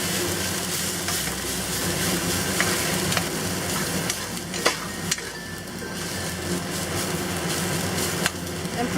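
Rice is stirred and tossed in a hot pan with onions over medium-high heat, giving a continuous sizzle with scraping and clicking knocks of a utensil against the pan, close and fairly loud with no voices.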